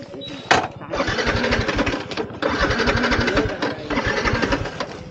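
A vehicle engine cranks repeatedly in rapid, rhythmic bursts without catching, the starter churning loudly and close in several long stretches with short pauses between them, while someone talks over it.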